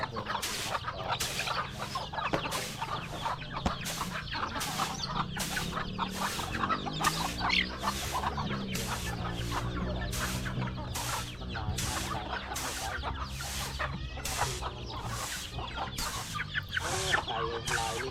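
Mottled chickens gathered together clucking steadily, a busy flock close by with a rhythmic repeated tapping running through it.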